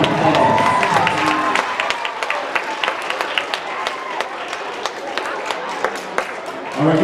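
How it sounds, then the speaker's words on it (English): An elementary school assembly audience breaks into dense, sustained applause, with many hands clapping at once and scattered cheers over about seven seconds. "Give yourself a round of applause."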